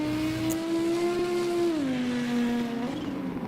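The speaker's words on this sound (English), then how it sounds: "5-cylinder engine in that car. That's why it sounds very special." A five-cylinder hill climb race car engine drones loudly and steadily in a European championship hill climb, its pitch holding high and then easing down as the car passes.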